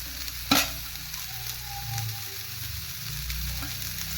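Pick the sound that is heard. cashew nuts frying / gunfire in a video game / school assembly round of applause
cashew nuts frying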